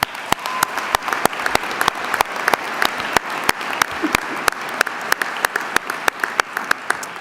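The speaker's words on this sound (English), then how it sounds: "Let's give them a round of applause." Large audience at a university winter commencement applauding honored students, a steady sustained roar of many hands clapping with sharp individual claps standing out, close and continuous throughout.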